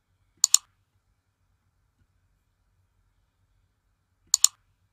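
Two crisp computer mouse clicks, each a quick double tick, about four seconds apart against near silence.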